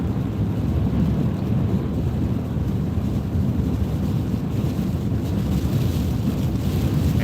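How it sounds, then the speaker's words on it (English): Steady rain and gusting wind outdoors in southern Ohio, a dense, continuous rush that roars against the microphone with no voices. "we're getting some rain"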